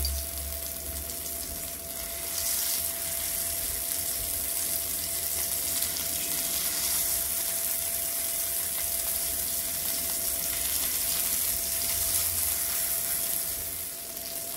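Harbhara (chickpea) tikkis frying on a hot tawa, a soft, continuous sizzle, moderately quiet and steady, with a faint tonal hum in the background and no voices.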